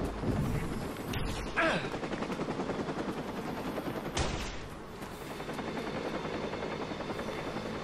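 Helicopter in the video game Watch Dogs, a steady rotor drone running throughout the clip, mixed with bursts of automatic gunfire and game action noise.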